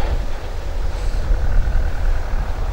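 A steady, rough tractor engine rumble with broad noisy hiss, loud and continuous throughout, at a farm fire near Guidonia, Rome.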